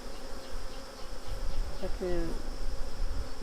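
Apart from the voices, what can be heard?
honeybees buzzing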